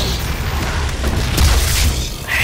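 A Gauss cannon fires in Doom (2016), a loud, dense low boom that holds for the full stretch and swells near the end, with no voices over it.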